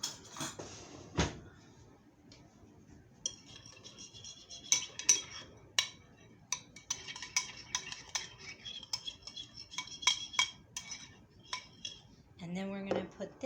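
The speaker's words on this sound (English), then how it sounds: "And then we're going to stir that together." A spoon clinks and scrapes against a bowl while stirring a pepper, salt and garlic powder seasoning mix, giving quiet, irregular taps and rattles with a brief louder clatter near the end.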